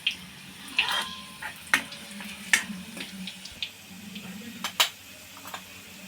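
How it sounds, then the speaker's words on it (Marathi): Finely chopped garlic sautés in a pan for a Maharashtrian mung bean amti, a low sizzle under sharp intermittent clinks and scrapes of a stirring utensil against the pan. "बारीक असा कट केलेला लसूण मस्त गोल्डन कलर येईपर्यंत परतून घ्यायचा"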